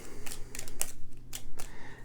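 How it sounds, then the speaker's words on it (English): Blue cards being shuffled during a round of the board game Fractured Sky, heard as several quick papery riffles and snaps close by, spaced unevenly over about two seconds with no talking. "We take all the blue cards, we shuffle them"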